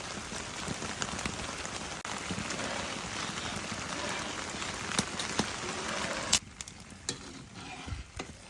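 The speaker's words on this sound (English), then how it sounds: "these little ones are when the rain is hitting the pan." Rain patters on a metal camping pan, dense irregular pitter-patter of drops with sharper individual hits, steady and close, thinning out toward the end.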